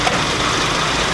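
A Toyota Crown's engine idling roughly during a restoration after restarting with fuel trouble, a steady low rumbling drone heard close up and alone.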